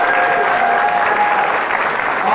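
Audience applause on a low-carb cruise, a loud, dense burst of clapping and crowd noise sustained evenly for a couple of seconds.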